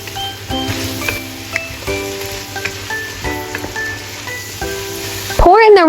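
Seaweed strips stir-fried with chili garlic sauce in a pan, a steady sizzle broken by clinks and scrapes of a utensil, close and fairly loud.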